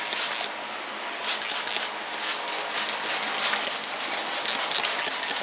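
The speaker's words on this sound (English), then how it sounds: "So let's see what we can do as far as spraying this in here." Liquid sprayed from a spray bottle into a 1936 truck fuel tank, a hissing spray in several bursts separated by short pauses, close and fairly loud.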